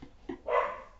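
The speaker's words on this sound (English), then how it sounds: "the dogs are going crazy." Dogs in a backyard give a single short, sharp bark at moderate distance, then the sound trails off briefly.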